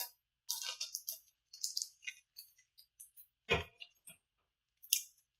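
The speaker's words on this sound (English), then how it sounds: "Just gotta get the tape off the bottom." Scissors snip through packing tape on a comic book shipping package, a string of short close clicks and cuts with a louder crinkling rustle near the middle and one more snip toward the end.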